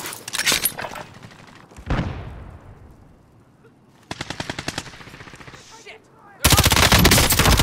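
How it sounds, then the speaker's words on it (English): Video-game gunfire from Call of Duty: Modern Warfare: a loud early volley, then rapid machine-gun bursts in rhythmic rattles, ending in sustained dense automatic fire, with a voice calling out between shots. "taking fire!"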